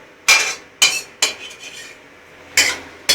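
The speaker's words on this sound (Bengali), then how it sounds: "এটা ভাজা হয়ে গেছে, এবার আমি ডিমটাকে ভেজে নেবো।" Egg frying in a pan while cooking chow mein, heard as a few sharp metallic clanks and scrapes of a utensil against the pan, spaced irregularly with quiet gaps between them.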